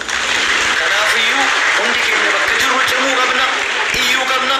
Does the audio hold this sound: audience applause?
yes